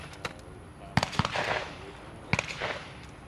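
Shotgun blasts at an outdoor sporting clays shoot crack out in sharp reports, a few single shots followed by paired bursts that ring out with echoing tails, while voices murmur faintly in the background.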